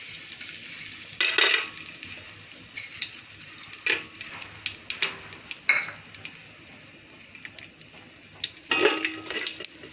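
Whole biryani spices fry in hot oil in a pot for prawn biryani, a soft continuous sizzle broken by several sharper bursts of spatula scraping and clinks against the vessel, with no talking.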